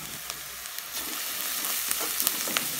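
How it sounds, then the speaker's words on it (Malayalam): Chopped onions sautéing in coconut oil in a pan, a steady close crackling sizzle with faint scattered pops and light stirring, no voices. "ഇനി നമുക്ക് 2 വലിയ സവാള ചെറുതാക്കി നുറുക്കിയത് ഒന്ന് വഴറ്റിയെടുക്കാം"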